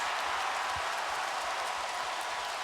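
An arena crowd at a 2010 NBA playoff game between the Spurs and the Mavericks applauds and cheers after made free throws, giving a steady, dense wash of clapping and roar with no break.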